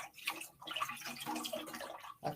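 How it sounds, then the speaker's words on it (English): Warm tap water runs steadily into a sink for face washing, with splashing and dripping that swell and ebb as hands move through the stream, close and moderately quiet. "I am using warm water right now to cleanse my skin"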